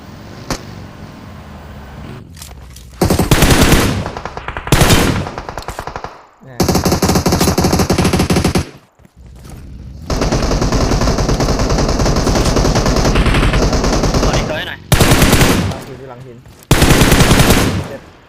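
Loud automatic gunfire from the mobile battle royale game PUBG Mobile comes in several long sustained bursts and short volleys with brief gaps, close and dominant throughout.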